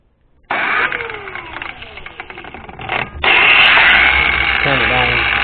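Battery-powered angle grinder with several speeds, switched on and spinning up to a loud, steady close whine with a brief dip before full speed, with talking over it.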